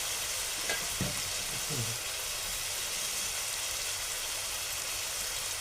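Bitter gourd with home-made masala and colour masala sautéing in a pan, a steady sizzle throughout with a few brief scraping stirs near the start.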